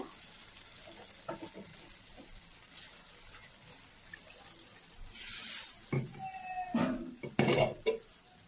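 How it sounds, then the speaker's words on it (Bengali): Water is poured into a hot pan of cashew katla masala. After a quiet stretch comes a short hissing splash, then scattered clinks of a utensil against the pan. "এবার এর মধ্যে একটু জল দেব"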